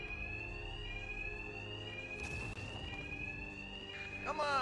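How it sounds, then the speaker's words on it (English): An alarm sounds in the Batman Arkham Knight video game: a steady high electronic tone rings throughout, with a burst of scuffling game action midway and a warbling siren-like sweep rising near the end. "My attacks will be covered by the noise of the alarm."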